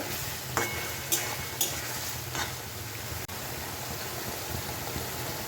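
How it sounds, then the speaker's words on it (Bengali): Spices being stirred with ridge gourd and potato in a frying pan, a steady sizzle with a few scraping strokes of the spoon, fairly close and alone. "মশলাটা ঝিঙে আর আলুর সঙ্গে একটু ভালোভাবে মিশিয়ে নেব"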